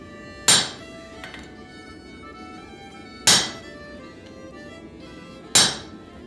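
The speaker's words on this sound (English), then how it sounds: "I use a flatter to smooth out the lugs of the axe." Three sharp, ringing hammer strikes on a blacksmith's flatter as it smooths the lugs of a folded axe preform, spaced about three seconds apart, each with a short metallic ring that decays quickly.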